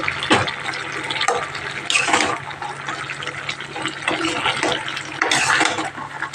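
Water splashes and trickles into a pan of simmering Malabar spinach stalks and leaves, in a few uneven pours up close over a low kitchen background.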